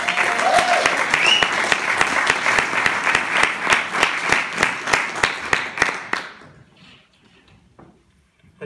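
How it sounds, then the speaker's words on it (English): Audience applause fills a room at a live recitation event, a dense steady clapping from a crowd that holds strongly for about six seconds before stopping abruptly into near silence. "They're going to clap"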